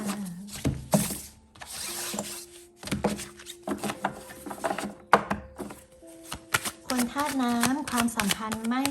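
Tarot cards are shuffled and riffled in repeated rustling bursts at close range, mixed with someone speaking throughout.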